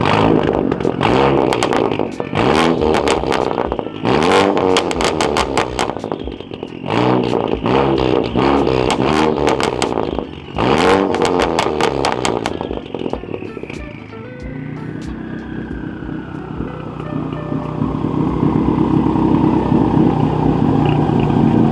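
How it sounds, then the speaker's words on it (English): A big-turbo Ford Focus ST blips its aftermarket exhaust in a run of sharp, loud revs that rise and fall, with crackles between bursts, then settles into a steadier drone as it pulls away. "in honor of always getting asked what my exhaust setup is, I'm gonna give you guys some sound clips"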